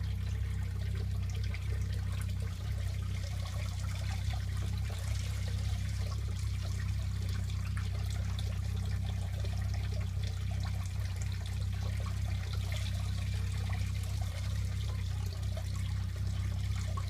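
Water trickles steadily through a Martin water table used indoors, a continuous, even flow with a low rumble beneath it for the whole stretch.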